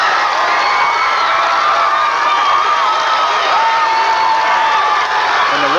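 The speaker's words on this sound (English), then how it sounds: "And the Ralston crowd absolutely loves it." A baseball crowd at a 1991 state championship game cheers and roars steadily after an RBI triple, a dense, loud wash of shouting voices sustained throughout.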